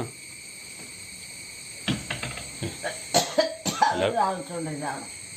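A burst of several harsh coughs in quick succession, close and fairly loud, following a quieter stretch of room noise.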